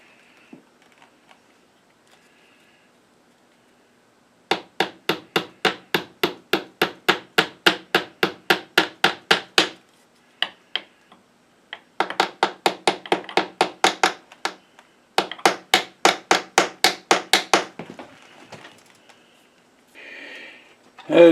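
Rapid, evenly spaced hammer blows ring out on a metal workpiece in a workshop in several long bursts with brief pauses between, close and sharp.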